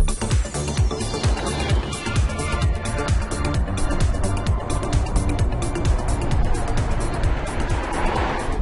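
An electric sports car billed as the most powerful electric car in the world accelerates, its motor rising like a turbine, with a whine that climbs steadily in pitch over a loud, steady rush of road and wind noise, close and continuous.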